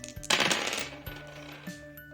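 Dice rolled onto a hard surface, a sharp clattering burst of tumbling clicks that tapers into a few light rattles and final taps, close and fairly loud, with no talking.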